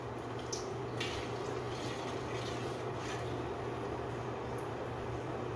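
Low, steady sizzling of fish frying in hot oil, with a few sharper pops and crackles over a constant low hum, fairly faint and without voices.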